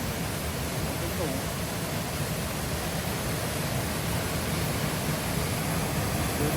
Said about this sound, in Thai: น้ำตกเยอะมาก